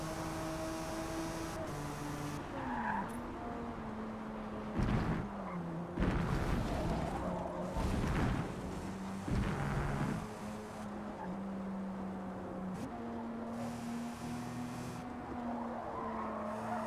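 A loose, oversteering car in the racing game Forza Motorsport skids and squeals its tires in several loud bursts over a steady droning engine note that rises and falls with the revs.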